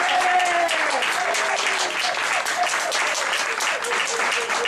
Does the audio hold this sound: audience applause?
yes